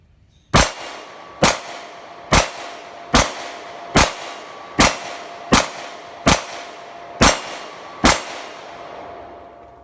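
A KRISS Sphinx SDP Compact pistol fired with a CZ75 magazine gives ten sharp, loud shots at a steady pace about once a second, each with a short ringing decay.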